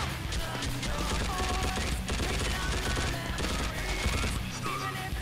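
Dense, continuous rapid machine gun fire in the video game Global Operations, loud and sustained throughout with overlapping shots and game effects.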